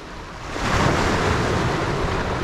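A northeasterly wind blows across a pebble beach at the Knap in Barry, a loud, steady roar of gusting air and microphone buffeting mixed with surf that swells after half a second and then holds, with no voices.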